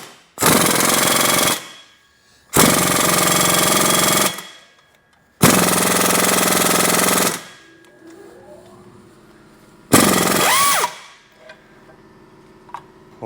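An impact tool with an 18 mm wobble extension removes torque converter bolts during engine removal on a Chrysler Town & Country or Dodge Grand Caravan. It gives four loud, harsh rattling bursts of a second or two each, separated by pauses and a faint metallic clink.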